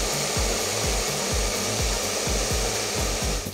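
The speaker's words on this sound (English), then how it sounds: "we're gonna go ahead and use our blow dryer on it" A handheld blow dryer fitted with a concentrator nozzle blows steadily while drying hair, its loud airflow hiss continuous, with rhythmic low rubbing thumps as the hair is worked through.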